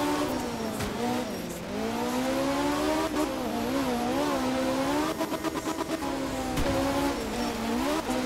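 A rally car in the video game art of rally, on a wet Finland stage, revs and shifts through gears, its pitch climbing and dipping repeatedly as it drives hard, with brief bursts of rattling and tire noise.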